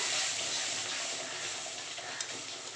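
Semolina frying in white oil for halwa, with water just added, gives off a steady, fairly quiet broadband sizzle and hiss that holds evenly throughout, with no talking.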